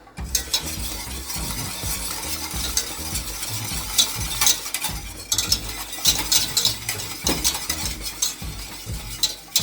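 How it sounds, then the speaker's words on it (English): A whisk works steadily through béchamel of milk, flour and butter in a pan, giving a continuous, busy scraping and rattling with faint bubbling, close and fairly loud, with no talk. "I'm going to stir it and I'm going to keep whisking it"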